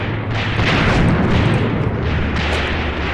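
An enemy gun in Graviteam Tactics: Mius Front booms with a heavy, rumbling blast that rolls on as a loud, continuous low roar before fading slightly.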